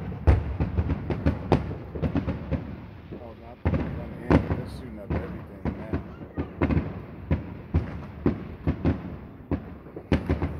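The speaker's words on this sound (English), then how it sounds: "second time of seeing a firework" July 4th fireworks going off outdoors, a quick series of loud cracks and booms, some close and punchy, others softer and more distant, with people talking excitedly between the bursts.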